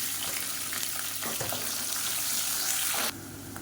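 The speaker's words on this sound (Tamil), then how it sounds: "இப்போ ஒரு கைப்பிடி அளவுக்கு பெரிய வெங்காயம் நீளமாக நறுக்குனதை சேர்த்துக்கலாம்." Long-sliced onions hit hot oil with mustard seeds, fennel and curry leaves for a tomato kuruma, giving a loud, steady sizzle and crackle close by, with an occasional stir.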